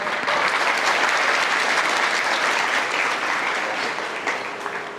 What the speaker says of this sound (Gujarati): જોરદાર તાળીઓથી વધાવી લઈએ